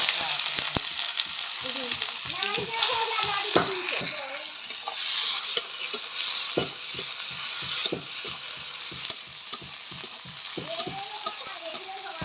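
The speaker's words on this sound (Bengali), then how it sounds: "পেঁয়াজটা একটু ভাজা হয়ে গেছে" Chopped onion fries in mustard oil in a kadai, with a continuous sizzle and frequent scraping stirs of a spatula close by, the stirring rhythmic and clattery over the hiss.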